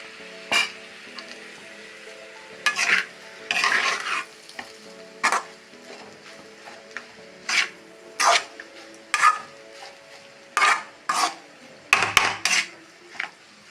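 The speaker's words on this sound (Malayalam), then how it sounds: "നന്നായി ഇളക്കി കൊടുക്കാം" Egg rice with ghee and soy sauce is stirred in a pan, with about a dozen distinct scraping, clinking strokes of a metal spoon spaced irregularly over a faint background sizzle.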